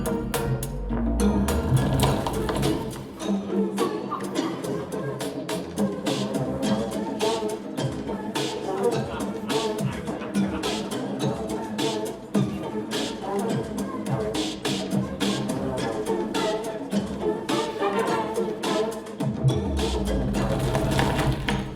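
Lava biome weather in the video game Unrailed forms a dense, rapid rattling and crackling texture, like fast mechanical clicking, that runs steadily and fairly loud for the whole stretch.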